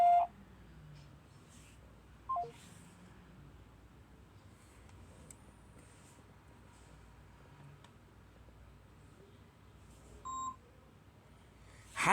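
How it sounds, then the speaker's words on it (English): A single short electronic voicemail beep sounds faintly over quiet line hiss, with a few other brief tones near the start and end. "When you hear the beep, record your message"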